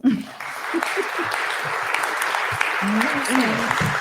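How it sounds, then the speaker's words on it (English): Audience applause on a comedy or talk show, a steady wash of clapping that runs the whole stretch at moderate loudness, with voices talking over it throughout. "let's give a round of applause for the dick."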